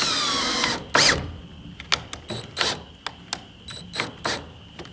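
A power drill backs out a screw and drives in a longer one while a door is being installed, a close motor whine in repeated short bursts with ratcheting clicks between them, no talking.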